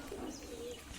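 Pigeon cooing, soft and close, a short low burble from a domestic pigeon kept among pigeons being bred, heard alone over faint background noise.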